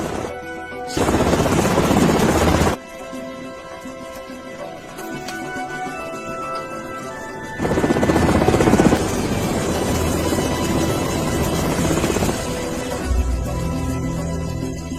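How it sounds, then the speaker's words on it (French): A military gunship helicopter in an action film thunders overhead with loud, sustained rotor chop and engine roar, swelling in two heavy bursts over a constant drone. "Pourquoi est-ce que notre hélicoptère n'atterrit pas?"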